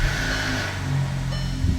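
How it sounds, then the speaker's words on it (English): A 2016-2019 VW Passat with a 1.8 turbo engine, just after a camshaft sensor replacement, cranks and catches, then settles into a steady close-up hum with a brief rise in revs near the end. "now I'm going to proceed to start the engine to see if the check engine light is gone"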